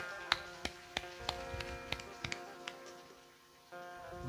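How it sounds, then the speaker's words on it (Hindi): An audience at a Shiva katha, a Hindu religious discourse, claps in a steady rhythm. The claps are faint, sharp and evenly spaced over quiet background music. "बजाओ ताली बजा रहे"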